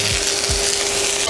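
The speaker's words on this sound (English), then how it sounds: "Eggs go in here, and our onions." Eggs and chopped spring onions frying in a hot wok give a steady, dense sizzle that fills the short moment, with a couple of low scraping knocks from stirring.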